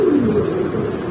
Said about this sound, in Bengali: এক জোড়া জার্মান সিল কবুতর